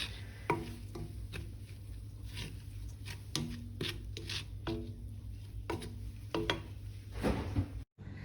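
Salt being mixed by hand into a filling for shish barak, a series of soft scraping, rubbing and light tapping sounds against a bowl, close and quiet over a steady low background hum.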